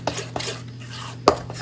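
A spoon stirs flour into yeast water in a mixing bowl for pretzel dough, giving a few light scrapes and clinks against the bowl, with one sharper knock near the end.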